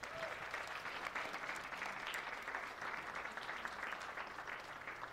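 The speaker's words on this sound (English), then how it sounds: "Let's give her another round of applause." An audience applauds a speaker at an evening speaking event, steady dense clapping that holds at an even level for about five seconds with no voices on top.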